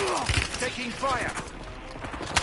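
Quick gunfire rattles through a Warzone match, short bursts mixed with game effects as a player's voice talks over them.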